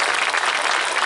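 An audience at a charity gala in Fălticeni applauds in a short, dense burst of clapping, loud and steady.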